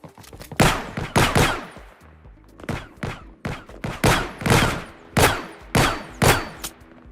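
Gunfire in an Unreal Engine video game demo: a gun sword fight with spawned enemies and allies, heard as repeated loud, punchy shots in irregular bursts, each with a brief tail, and no talking.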